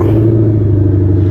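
Ford Mustang Shelby V8 engine held at a loud, steady, deep rumbling rev close by, the throaty drone continuous and unbroken with no talk over it.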